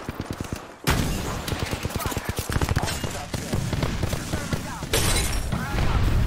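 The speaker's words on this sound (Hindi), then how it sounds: "अच्छा चार्ज राइफल चलाएंगे अब" Charge rifle fire in Apex Legends: a fast run of sharp cracks, then heavier, louder bursts with clear breaks between them, over continuous game noise, while a player talks over it.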